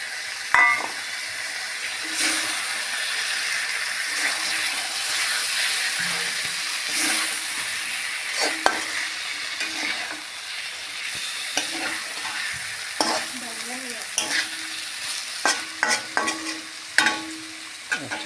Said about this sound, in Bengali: এবার মশলার সাথে ইলিশ শুটকিগুলা ভালো করে কষিয়ে নেব একসাথে।